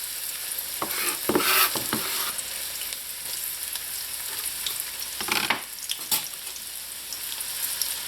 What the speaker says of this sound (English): Let this just saute a little until the onion starts to turn like